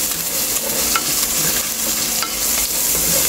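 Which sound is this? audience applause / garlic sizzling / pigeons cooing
garlic sizzling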